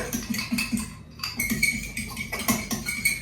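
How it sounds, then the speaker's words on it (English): A fork clinks and scrapes rhythmically against a bowl while homemade jam ingredients are mixed, producing steady close metallic taps with no talking. "I'm just going to grab a fork. I'm just going, okay, to mix that together."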